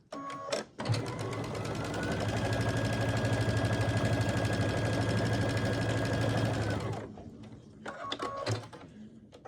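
A sewing machine runs in one long continuous burst, stitching two rectangular quilt pieces with right sides together. Its motor hum and rapid needle patter are loud and close, with short clicks of handling before and after.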